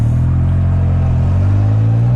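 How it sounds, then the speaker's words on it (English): A Can-Am Spyder RT three-wheel motorcycle with a modified exhaust, its engine rumbling loud and close with a deep, throaty idle that rises slightly in pitch as it revs. "Exhaust definitely gives her some sound."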